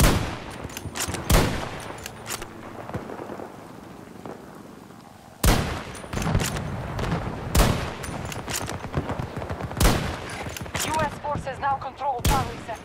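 Rapid bursts of gunfire from Battlefield 2042 crack out in loud sharp clusters, repeated shots spread across the stretch with short gaps, with faint talk in the background.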